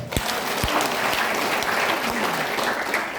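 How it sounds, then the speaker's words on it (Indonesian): An indoor audience at a home sharing gathering claps loudly for a few seconds, a dense, close burst of applause. "Aplaus buat kita."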